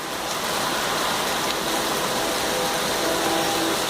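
Heavy rain with hail pouring down outdoors, a dense, steady roar of water filling the whole clip at close range without letup.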